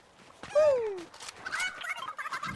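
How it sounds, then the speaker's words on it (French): A bird-like squawk and gobbling call from a chicken in Fortnite: one loud descending cry followed by shorter chirpy clucks, close and clear with game noise behind. "Yeah, come here, chicken!"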